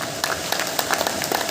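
Audience applause at a Hindi poetry gathering (kavi sammelan) during a Ganesh festival event, a brief, steady patter of many hands clapping at moderate loudness.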